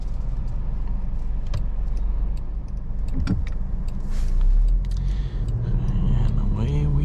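A 2023 Jaguar F-Pace's smooth four-cylinder engine pulls away from inside the cabin, a steady low rumble that swells slightly midway, with a few light clicks and brief cabin noises over it.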